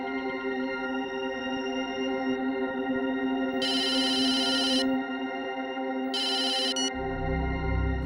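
A telephone rings indoors with two bursts of bright electronic trilling, separated by a pause, over a steady tonal background and a low rumble toward the end.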